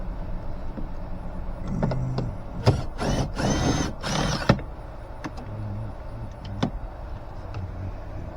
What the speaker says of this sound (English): Let me go get a different 10mm. Alright, let's start taking out bolts here.